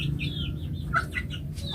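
Soft clucking and short calls from a chicken in a backyard poultry setting, recovering from snoring breath, heard over a steady low background hum.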